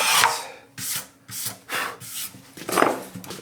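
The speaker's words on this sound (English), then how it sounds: "Power sander." A power sander works the arm bevel of a handmade acoustic guitar in six short bursts of wooden rubbing and rasping, close and fairly loud, separated by brief pauses with no voices.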